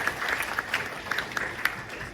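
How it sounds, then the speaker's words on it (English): Audience applause for Edwin at a Rotary district conference, a crisp crowd of clapping with distinct individual hand claps popping out of a steady, moderately loud patter. "Give Edwin a round of applause, everybody!"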